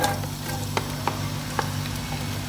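Finely chopped large onion frying in half a cup of oil for chicken mandi, a soft steady sizzle close by with a few faint clicks of stirring and a low background hum, no voices.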